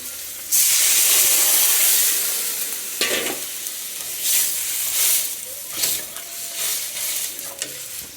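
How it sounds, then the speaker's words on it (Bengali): Water poured into a hot cooking pot bursts into a loud rushing hiss of steam and sizzle, then settles into bubbling frying with several stirring scrapes. "এবার জল দিয়ে দেবো জল দিয়ে দিচ্ছি"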